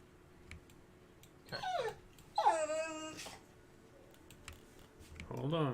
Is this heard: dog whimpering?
yes